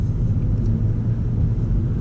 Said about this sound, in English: The only clue you do get is a slight rumble from the engine.